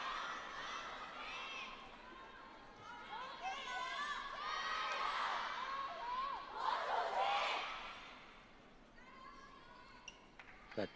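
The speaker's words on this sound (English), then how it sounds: "It starts with a few words and then it ends with WANG CHU QIN in chorus" Table tennis spectators at the ITTF World Cup quarter-final in Macao cheering for Wang Chu Qin, a swelling chorus of voices that rises and peaks loudly before fading, heard a little distant in a large arena.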